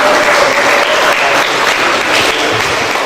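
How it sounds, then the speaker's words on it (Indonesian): Children at an Islamic boarding school gathering break into loud, dense applause, a continuous roar of clapping that fills the room for a few seconds. "Mari kita tepuk tangan adik-adik."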